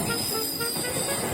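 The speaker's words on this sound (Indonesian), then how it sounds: "Di sisinya lalu kereta ini." A train rolls past right beside a mosque during Eid al-Fitr prayers, a loud, continuous rumble with high metallic wheel squeal filling the short moment.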